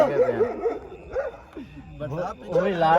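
A dog yips and barks in excited bursts, mixing higher whimpers with sharper barks, close and fairly loud, at an outdoor BBQ and pool gathering.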